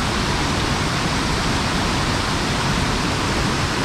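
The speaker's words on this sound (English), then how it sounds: "this is a sick waterfall" Yannathan Falls in the Otways, a dense, constant hiss and roar of falling water, close and loud, alone with no voices.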